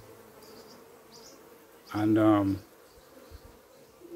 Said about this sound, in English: the bees were coming in with pollen